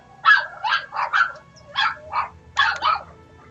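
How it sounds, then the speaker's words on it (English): Several neighborhood dogs bark in a quick burst of about seven sharp barks and yips, close and loud, with brief gaps between them and no talking. "neighbor dogs barked right into my window, or right towards it"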